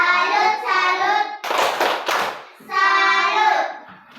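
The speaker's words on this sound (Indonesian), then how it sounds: "Kita tepuk tangan dulu." Schoolchildren in an elementary classroom clap their hands together in two loud, rapid bursts, broken up by young voices chanting in unison.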